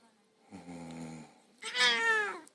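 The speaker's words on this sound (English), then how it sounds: "Good purr. Yes, she's a good purr." A cat purring and vocalising close by, a low rumbling stretch followed by a brighter, louder harmonic burst that sounds like a meow, with no talk over it.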